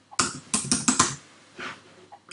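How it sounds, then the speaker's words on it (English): Bursts of quick keystrokes on a computer keyboard during a cutting-machine design session, two clustered runs of clicky taps separated by a pause, close and clear with no talk. "Just type another name."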